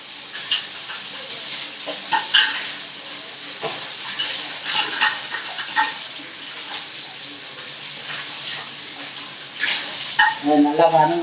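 Drumstick and chana dal sautéing in a pan for murungakkai poriyal, making a steady close sizzle and hiss with clinks and scrapes of stirring, while a voice talks over it at times.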